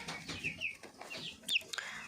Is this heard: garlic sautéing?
no